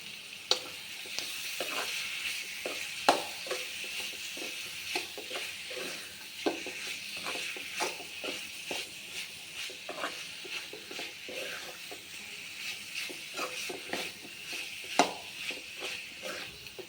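Steady sizzling of liver sautéing on a low flame in a pan, with frequent scraping stirs and occasional clicks of a utensil, continuous and close, no speech.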